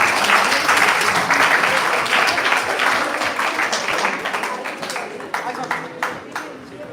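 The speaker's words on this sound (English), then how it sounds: "Let's give a big round of applause." A big round of applause from the audience at a medical conference on personalised medicine, loud and full at first, thinning out into scattered claps.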